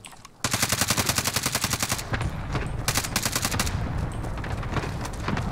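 Automatic gunfire rattles in Call of Duty Warzone, loud rapid bursts of evenly spaced shots that break off briefly and resume, dense and close.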